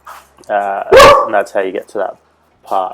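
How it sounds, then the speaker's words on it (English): A single sharp, loud dog bark cuts in close by indoors, breaking over a man's speech, which continues around it. "Sorry for the dog bark here."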